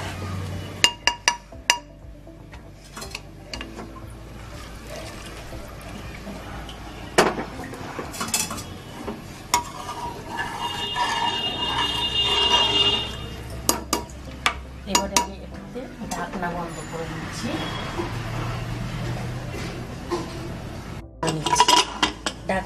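Pulao stirred in a pressure cooker pot, metal spoon scraping and clinking against the sides in irregular bursts close up, with a low hum and a faint voice now and then.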